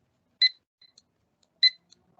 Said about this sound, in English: the first step is that we have to register the barcode scanner. So you'll hear beep here.